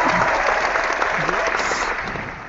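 Applause and crowd cheering sound effect, a dense wash of clapping and cheers that holds steady, then fades slightly toward the end.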